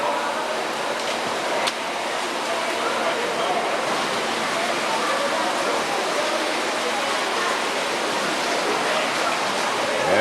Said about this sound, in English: Now you see the stream underneath there.